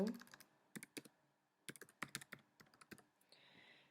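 Text typed on a computer keyboard in OpenOffice presentation software: bursts of close, crisp key clicks in quick runs separated by brief pauses, with faint hiss near the end.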